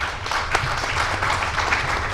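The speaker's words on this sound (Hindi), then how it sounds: "एक बार उसके लिए जोरदार ताली।" Loud applause from an audience at a religious gathering for the 251-foot statue of Mother Sita, steady dense clapping filling the moment with a few sharper claps standing out.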